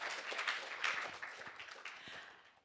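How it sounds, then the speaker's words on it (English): An audience at a digital art talk applauds to welcome the speakers, a brief wash of clapping that fades out over a couple of seconds. "please also join me in giving them a big round of applause"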